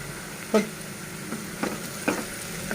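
Ivy gourd and chana dal fry in hot oil as turmeric is added, a soft steady sizzle broken by a few light knocks and stirring clinks.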